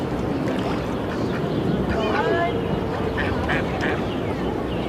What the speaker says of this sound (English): I'm gonna show you the ducks a bit more